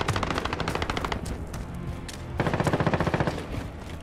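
Rapid automatic gunfire from Call of Duty: Modern Warfare rattles in two long, dense bursts separated by a brief lull, loud and close with no talking.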